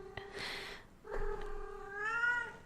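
A cat meows loudly and close up in two drawn-out, wavering calls, the second rising and stretching into a long plaintive cry.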